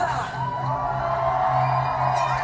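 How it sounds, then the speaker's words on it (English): A studio audience at a Big Brother UK eviction night cheers for housemate Lily, a dense, loud crowd roar with whoops that holds steady throughout. "Oh, Lily got a cheer."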